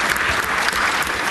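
An audience at a 2013 energy innovation summit pitching session bursts into steady, dense applause, continuous clapping filling the room throughout with no voices standing out.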